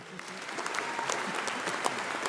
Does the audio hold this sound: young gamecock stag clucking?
no